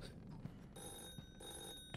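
A telephone rings faintly in a horror video game, its bell tone quiet and steady over a low, murky ambient background, with no talk over it.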